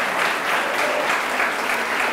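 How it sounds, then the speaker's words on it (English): An audience at a historic house museum event gives a strong round of applause, dense continuous clapping from many hands that fills the room without pause. "I think we should all give Frank a real strong round of applause."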